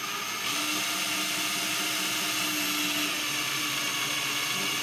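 A barrel lap loaded with lapping compound spins at medium speed inside a muzzleloader barrel muzzle, giving a steady, close whirring motor drone with a gritty, hissing edge and no pauses.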